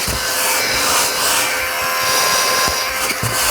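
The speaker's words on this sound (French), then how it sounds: "ça ne vous gêne pas trop le bruit de l'aspirateur" A vacuum cleaner runs close and loud with a steady whining roar, its noise unbroken throughout, with faint knocks as it moves across the floor.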